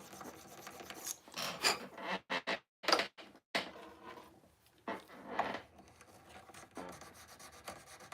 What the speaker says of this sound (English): we'll get that file in there and clean off any little burrs